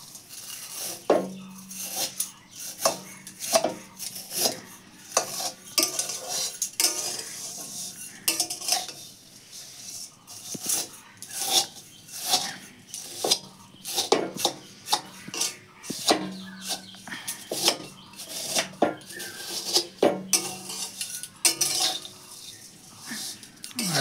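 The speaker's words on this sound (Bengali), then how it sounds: "ঘি দিয়ে সুন্দরভাবে ভাজা হয়ে গেল সিমুইটা" A metal spatula scrapes and clinks against a pan as vermicelli fries in ghee. The sharp clatter repeats in an irregular rhythm and is heard close up over a soft sizzling hiss.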